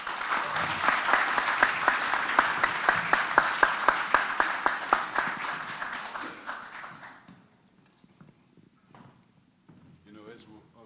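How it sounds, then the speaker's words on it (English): Audience applause at a business summit panel, dense clapping that swells loudly for several seconds, then thins out and fades to scattered claps before quiet talk begins. "So please put a round of applause for Mr."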